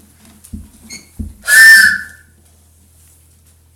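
A child blows a toy train whistle in one loud, steady shrill blast lasting about half a second, after a few soft taps and knocks.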